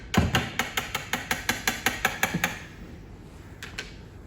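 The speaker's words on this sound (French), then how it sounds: "Alors, voici mes blancs en neige et on va retirer le fouet." A whisk being knocked and tapped against the bowl after beating egg whites in a stand mixer: about a dozen sharp metallic clicks in quick steady rhythm, then two more taps after a pause, close and fairly quiet.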